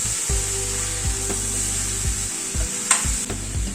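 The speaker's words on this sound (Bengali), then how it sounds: "সব গুঁড়ো মশলাগুলো দিয়ে এবার একটু সয়াবিনটাকে ফ্রাই করে নেব।" Soy chunks frying with ground spices, including Kashmiri red chili powder, in a pan over a medium gas flame; a steady close sizzle with periodic scraping knocks as they are stirred.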